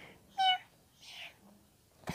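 A man imitates a cat with a short nasal meow, followed by a fainter second mewing call in a quiet room.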